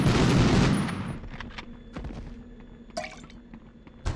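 Enemy gunfire in the Medal of Honor mission sabotaging the Rjukan hydro plant: a loud burst of rapid shots up front, then scattered sharper single cracks and clatter fading under a low steady hum.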